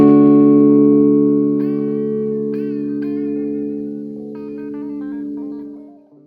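A major chord is held on guitar and picked one string at a time, with ringing tones sustaining as further notes enter one after another before fading out.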